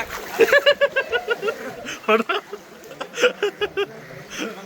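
Spring water splashes in quick rhythmic bursts as someone bathes outdoors, with repeated close scoops and splatters and voices talking underneath.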